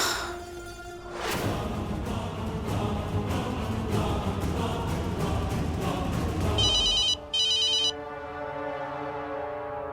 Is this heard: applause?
no